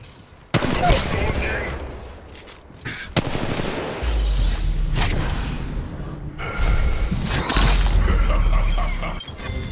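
Rapid bursts of gunfire crack and rattle in Apex Legends Mobile, loud and dense across the whole stretch, with shattering impacts and a low sustained rumble beneath, broken by brief lulls.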